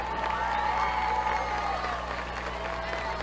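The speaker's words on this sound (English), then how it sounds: "Let's get fired up and give a big round of applause." Crowd applause and cheering at a high school football game, a steady, dense wash of clapping and murmuring from the stands, heard at a distance beneath an announcer's amplified voice.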